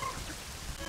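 Steady rain falling in the video game Majora's Mask, a soft continuous hiss with no voices, heard briefly.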